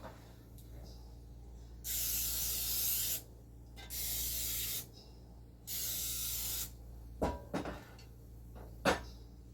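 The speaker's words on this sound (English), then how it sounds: "we want to spray our baking dish really well" Three sustained bursts of aerosol cooking spray hissing close by onto a baking dish, each a second or so long, followed by a few light clatters of the dish.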